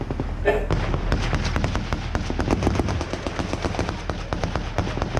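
Rapid outgoing gunfire in combat footage from Afghanistan, dense bursts of sharp shots crackling in quick irregular succession, loud and close throughout with no talk.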